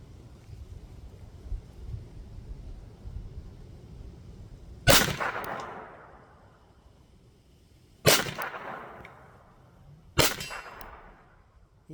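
Three loud gunshots from a Glock 44 .22 LR pistol, sharp cracks with ringing decay, spaced a few seconds apart after a stretch of quiet outdoor background.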